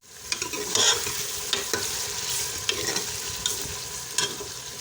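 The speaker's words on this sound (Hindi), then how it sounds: "अब हम इसको प्याज को लाल करेंगे।" Chopped large onions frying in a cup of oil, with steady sizzling and occasional stirring scrapes in the pan, fairly quiet and close, with no talking.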